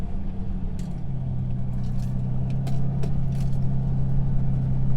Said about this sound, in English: The engine's quite there, quite noisy, but it's not too bad